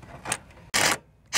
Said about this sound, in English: my extensions on my impact wrench, and I'm gonna get up in there and one bolt down, two bolts down